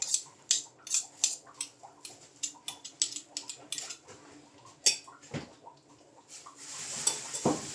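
A metal spoon scrapes and clinks rhythmically against a bowl while stirring mustard, quick repeated strokes with no voices, close and fairly quiet.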